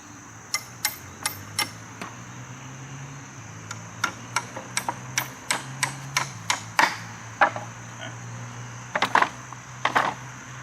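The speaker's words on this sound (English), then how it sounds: "You might need a hammer if you didn't line these up like I didn't." Light, irregular hammer taps drive a bolt through wood while a sawbuck log holder is assembled, a sparse cluster of sharp clicks that grows busier toward the end, close by with no talk.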